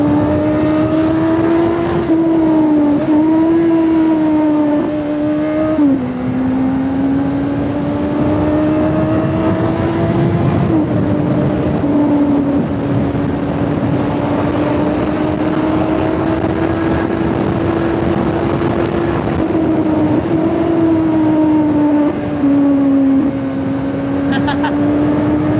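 Kawasaki Z900 motorcycle fitted with a BMC air filter running at high speed, a steady loud engine drone with slight pitch shifts as the throttle eases and picks up, heavy wind rush throughout, with a voice faintly over it.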